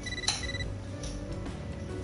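A short electronic chime from a phone signals an incoming mail in the video game Catherine: Full Body, one bright tone sounding over a quiet game background.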